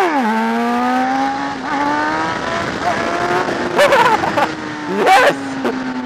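A motorcycle engine accelerates in second gear, its loud, close whine climbing in pitch, dipping and rising again, with a few sharp squeal-like bursts near the end.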